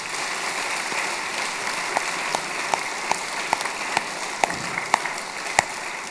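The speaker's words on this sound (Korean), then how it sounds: "열심히 하라고 박수 한번 쳐주십시오." A church congregation at a twentieth-anniversary thanksgiving service applauds steadily, with a dense, even wash of clapping and a few sharper individual claps standing out. No one speaks over it.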